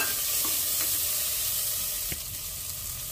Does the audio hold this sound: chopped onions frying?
yes